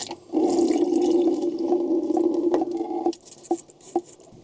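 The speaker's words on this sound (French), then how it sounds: "je remets encore un peu d'eau pour nettoyer encore une seconde fois" Rice is swished and rinsed by hand in water for a second wash, a close, loud sloshing patter for about three seconds before it settles into a few scattered drips and splashes.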